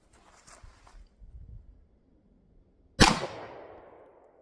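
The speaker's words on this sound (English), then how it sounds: "First is a hollow point with CG 9mm." A single sharp 9mm hollow point gunshot fired into a penetration test medium cracks loudly near the end and decays quickly, after a couple of seconds of faint handling noise.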